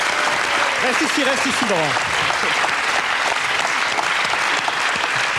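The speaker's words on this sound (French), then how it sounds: "On peut les applaudir tous les deux" Loud, sustained applause from a studio audience for two impressionists fills the whole stretch evenly, while someone speaks briefly over it.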